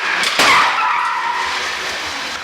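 Car tires skidding during a crash test, a broad loud rush with a sharp onset that fades gradually over a couple of seconds, with no talk.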